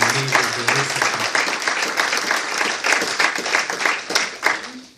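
Church congregation claps together in sustained, dense applause with some rhythmic peaks, while voices and a low sung or spoken tone sit briefly underneath at the start and end.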